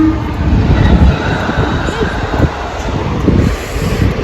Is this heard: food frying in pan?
no